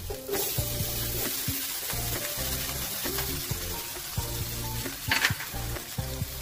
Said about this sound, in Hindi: अभी हम इसको अच्छे से मिक्स कर लेंगे ताकि वो बटर भी प्रॉपरली मिक्स हो जाए